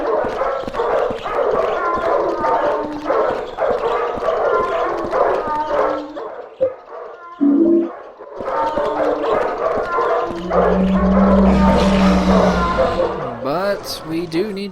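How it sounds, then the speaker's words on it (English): Dogs bark, yip and howl in the video game Silent Hill 4, a busy layered chorus through most of the stretch with a brief lull, set against an ominous rumbling background, and a voice talks over part of it. "We can also hear cats and dogs barking"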